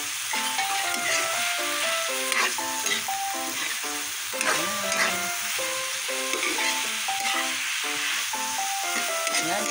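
Bitter gourd and eggs sizzle and fry steadily in a pan, a continuous crackle with stirring, while music with a bright tonal melody plays throughout.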